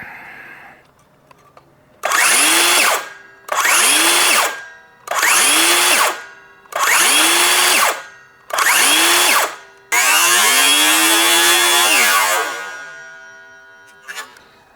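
A DeWalt circular saw revs up five times in short bursts, each cut off abruptly by its electronic brake, then runs one longer burst that spins down; loud, close and whining, with no talk over it.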